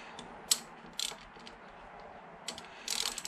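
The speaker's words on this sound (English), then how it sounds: "Ratchet's messing around." A ratchet tightens riser bolts on a 2003 Honda VFR800 VTEC motorcycle handlebar, giving a few quiet, scattered clicking bursts near 0.5, 1, 2.5 and 3 seconds over a low background hum.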